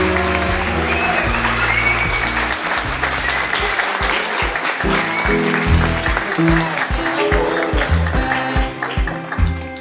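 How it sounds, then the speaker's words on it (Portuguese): Wedding ceremony applause from guests right after the couple is pronounced married, steady clapping mixed with loud music throughout. "Dê uma salva de palmas."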